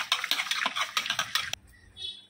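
Small fish are rubbed briskly together with coarse salt and lemon, giving a gritty, rhythmic scrubbing of quick wet strokes close by, which stops abruptly after about a second and a half.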